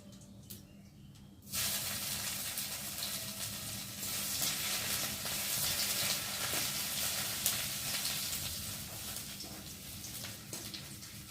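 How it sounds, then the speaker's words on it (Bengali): Ginger and cumin seeds fry in a pan for a mung dal, a close, steady hissing sizzle that starts abruptly after a short quiet moment and keeps going with slight stirring variations, no voices. "আদাটা একটু ভালো করে ভেজে নেবো"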